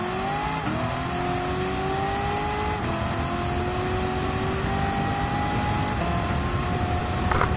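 A TransAm race car fitted with a custom gearbox, driven in a racing game, holds a loud, steady engine note. The pitch climbs through several gears with brief dips at each shift and never lets up.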